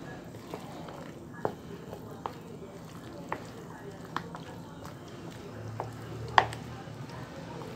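A spoon stirs sausage pie filling with corn and peas in a bowl, soft scraping and occasional clinks repeating at a slow pace while someone speaks.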